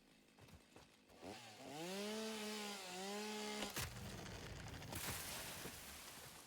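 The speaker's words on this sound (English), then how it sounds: "with the chainsaw, it actually clears out a much larger area" A chainsaw in the video game Satisfactory revs up and cuts down a tree, a loud buzzing whine rising in pitch and holding for about two seconds before cutting off, followed by rustling, clattering debris.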